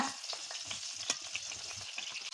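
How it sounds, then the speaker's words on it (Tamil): Tomatoes sauté in hot oil for a tomato chutney, a faint continuous sizzle broken by soft scraping clicks of stirring, with no voices. "தக்காளி நல்லா சாஃப்டாக வர வரைக்கும் வதக்கிக்கோங்க"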